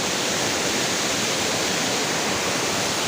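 Nang Khruan waterfall in Tak province, Thailand, pours in a loud, unbroken roar of rushing water that fills the whole space without a pause.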